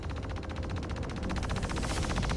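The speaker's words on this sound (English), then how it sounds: "Looks as if the ballistic weapons are just shooting straight through." Rapid, steady burst of ballistic cannon fire from a Mustang Alpha spaceship in the space game Star Citizen, a continuous machine-gun-like rattle lasting the whole stretch at even loudness.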